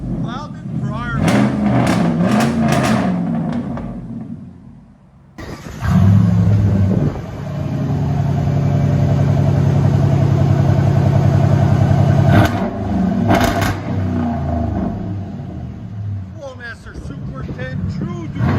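A 2008 RAM 1500 with a 5.7L HEMI V8 and true dual straight pipes revs up hard, holding a loud, deep rumbling roar before settling back to idle, close by, with a voice talking over the engine at times.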